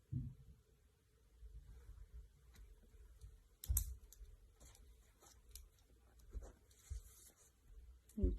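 Pen writing on paper with faint, intermittent scratching strokes, punctuated by a few soft clicks and thumps in a quiet room.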